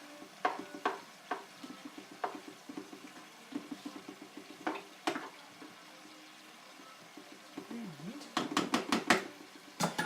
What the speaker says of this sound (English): Just going to give that a quick stir.